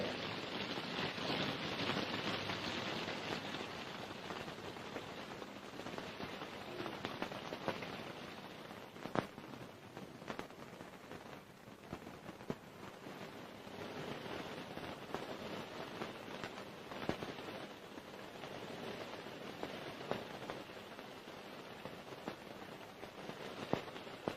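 Heavy rain pours steadily in an old Hindi feature film scene, a constant wide hiss with scattered louder drops and crackles over about twenty-four seconds, and no voices.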